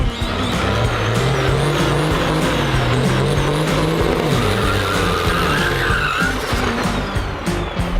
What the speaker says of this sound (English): Try to do a 3rd gear clutch dump